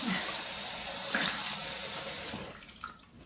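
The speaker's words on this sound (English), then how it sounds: "I'm gonna rinse quickly." Tap water runs steadily into a sink as a face is rinsed, with a broad close splashing hiss that fades out near the end.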